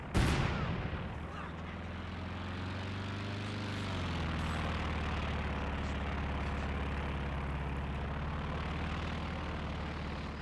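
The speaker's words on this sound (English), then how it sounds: "And I hear some S mines." In a Company of Heroes 2 battle, a sharp explosive burst from an S-mine opens the stretch, then a dense rumble of distant gunfire and battle noise carries on steadily underneath.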